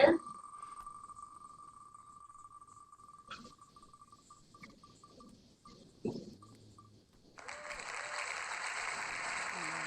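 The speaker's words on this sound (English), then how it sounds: "You can hear all the clapping in the background," Clapping from a crowd at a Smash Bros bracket event, heard as a broad wash of applause rising in the background after several seconds of quieter room noise with a steady tone.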